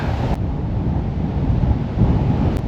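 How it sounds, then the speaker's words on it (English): Strong wind buffets the microphone on a hillside walk, a loud, steady low rumble and rush that swells slightly toward the end, no voices. "you've got the wind blowing in your face"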